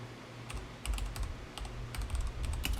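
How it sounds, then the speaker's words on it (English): Rapid keystrokes tap on a computer keyboard as a variable name is entered, close and fairly quiet, in uneven bursts of clicks with no speech. "I'm going to type in acceleration"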